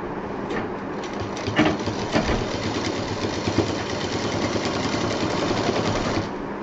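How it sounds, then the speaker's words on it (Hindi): Sewing machine stitching two quilt case pieces together, a steady dense mechanical whirr with fine rapid ticking, running continuously and close without speech. "अब दोनों को एक साथ हमें सिलना है।"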